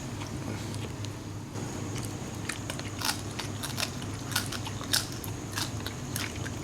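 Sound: biting and chewing crispy fried food

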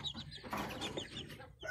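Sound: Black Jersey Giant chickens clucking

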